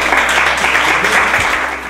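A pageant audience claps for a teenage Miss Teenager Pays-d'Auge candidate, dense steady applause filling the room throughout the short stretch.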